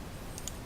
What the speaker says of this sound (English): So now I'm just gonna go double click like that.